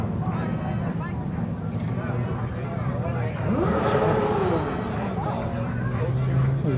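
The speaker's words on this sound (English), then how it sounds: "Those bikes sound nice." Motorcycles roll past at a Winnipeg car show and cruise, their engines rumbling and rising in pitch as they pass, with crowd chatter and traffic noise underneath.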